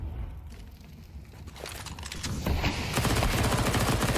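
Dense automatic gunfire in an esports match of a competitive shooter, rapid rattling bursts building louder toward the end, heard through a match broadcast with little talk.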